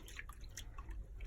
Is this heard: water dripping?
yes